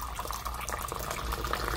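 Liquid pours steadily into a vessel while Moroccan mint tea is being made, a close, continuous splashing and trickling stream that holds even throughout with no talking.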